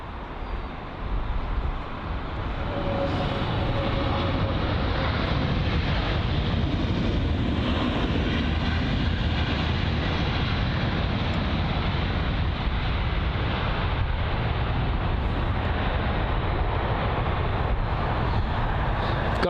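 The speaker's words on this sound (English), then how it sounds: "It's the Ethiopian Airlines A350-900, which is arriving from Addis Ababa" Ethiopian Airlines A350-900 airliner arriving at London Heathrow from Addis Ababa, a steady, loud broadband jet roar with wind buffeting the microphone, filling the whole stretch without a break.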